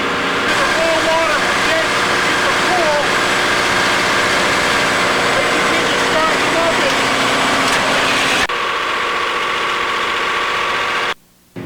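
A loud, constant engine drone fills a ship's engine room with a steady low rumble and hum, dropping slightly near the end before a brief cut.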